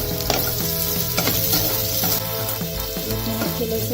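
Garlic cloves, oregano and basil leaves sizzle and crackle loudly in a pan for homemade pizza sauce, with a constant frying hiss and intermittent stirring scrapes throughout.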